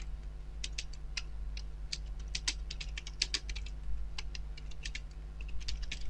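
Rapid typing on a computer keyboard while entering text in Photoshop, a steady run of light clicky keystrokes in irregular bursts, close and alone over a low electrical hum.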